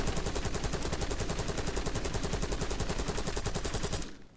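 A Krig-C assault rifle in a video game fires one long, uninterrupted full-auto burst, loud and evenly paced, with no voices, cutting off just before the end.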